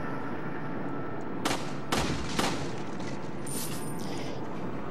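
Three sharp gunshots crack out in quick succession in Resident Evil 4 on PS2, two close together and then a third, over quiet game background ambience.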